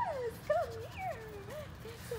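A French Bulldog puppy whimpers in a string of thin, high, wavering whines, close and fairly soft, over a low background rumble.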